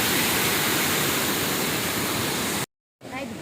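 Heavy water rushes continuously at Willingdon Dam in Junagadh during rain, a loud, dense, close roar that cuts off abruptly to silence near the end before resuming faintly.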